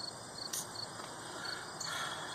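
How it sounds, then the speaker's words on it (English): Crickets chirp steadily outdoors on an upstate New York evening, a dense continuous trill with a few louder pulses standing out, moderately near and with no voices. "as you can clearly hear, nothing but crickets"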